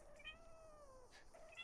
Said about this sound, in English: But Thurston meows.